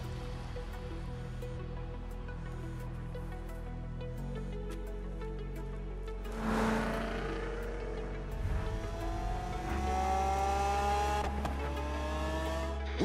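Engines hum and rev in Forza Horizon 3, with a car accelerating and shifting up through rising tones over a steady background drone.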